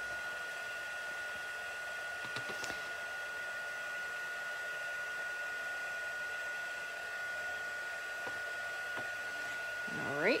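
Heat tool melting embossing powder on black cardstock, a steady whining blower hum with a high tonal whistle, running continuously at moderate volume.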